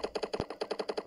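Machine gun fire in the video game Dude Theft Wars: a rapid, even burst of about a dozen sharp shots over roughly one second, fairly faint, with no talk.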